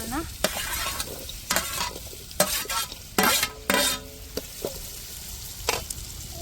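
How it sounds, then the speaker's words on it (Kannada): Green chillies are stirred and fried in a pan for a village-style green biryani, repeated scraping stirs over a continuous sizzle, close and fairly loud with no talk. "ನೆಕ್ಸ್ಟ್ ಹಸಿ ಮೆಣಸಿನ್ಕಾಯಿ ಕರೋಣ ಸ್ವಲ್ಪ ಫ್ರೈ ಆಗುತ್ತೆ"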